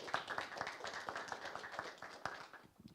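Steady applause from a crowd at a law school moot court competition, a continuous patter of many hands clapping at moderate volume, with no speech over it.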